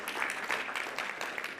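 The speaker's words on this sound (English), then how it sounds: "this is like by far the most applause I've had in years" An audience at an author visit applauds steadily, a dense wash of many hands clapping at fairly even loudness for a brief stretch, with no voices over it.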